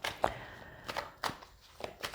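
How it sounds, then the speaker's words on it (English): Tarot cards are shuffled by hand in a few quick, crisp riffling bursts, close and fairly loud, separated by short pauses. "The cards are just shuffling by themselves."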